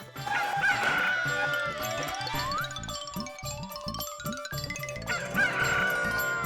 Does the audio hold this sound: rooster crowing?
yes